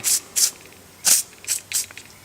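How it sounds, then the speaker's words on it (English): Several short hissing bursts of Gibbs aerosol lubricant sprayed onto the valves of a Fairbanks Morse Z Style C engine, close and loud, in uneven quick spurts with brief gaps. "I'm going to take some Gibbs, spray the valves here a little bit"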